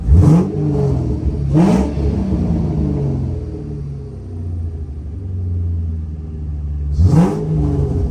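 Terminator Cobra engine revving hard in an Italian tune-up, three sharp throttle blips rising over a loud, deep, steady idle rumble, heard up close.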